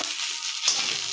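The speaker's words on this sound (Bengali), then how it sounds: "আদা রসুন একটু ভেজে নিলাম।" Ginger and garlic sizzle and crackle in a small amount of hot oil, with a soft stirring scrape partway through; brief, close and fairly quiet.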